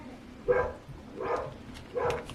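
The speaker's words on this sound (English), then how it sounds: "I apologize for my dog because he is going a little nuts" A dog going a little nuts barks excitedly indoors, giving three separate barks at about half-second intervals. They are moderately close and stand out over a quiet background, with no speech.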